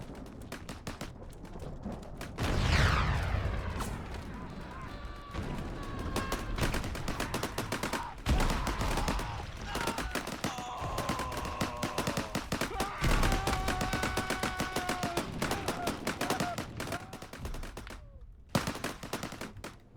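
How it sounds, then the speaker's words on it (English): Tanks firing during an Arma video game battle: heavy booming cannon shots and constant crackling gunfire, with whining engine and vehicle tones running under the dense, continuous combat din. "Man, the tanks truly are just shooting, pushing about."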